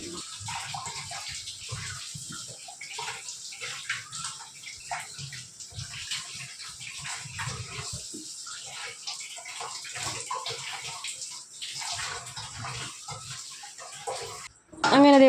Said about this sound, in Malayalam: അങ്ങനെ അതേ ഉരുളക്കിഴങ്ങെല്ലാം കഴുകി വൃത്തിയാക്കി എടുത്തിട്ടുണ്ട് കേട്ടോ